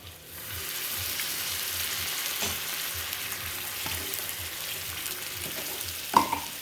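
Mussels simmer in coconut milk for a Thai-inspired lemongrass dish, giving a steady close sizzle with soft stirring knocks and a sharper clink near the end, no voices.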